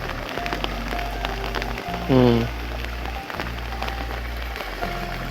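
Steady heavy flood rain patters on a surface beneath a voice speaking in Bhola, Bangladesh, with a low hum throughout and a brief tonal whine rising midway.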